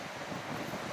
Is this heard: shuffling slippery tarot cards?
no